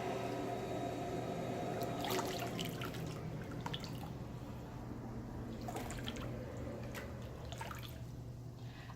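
Yarn is lowered into a dye bath in a dye studio. Quiet water drips and small splashes come in scattered clusters, soft and close, with no talking.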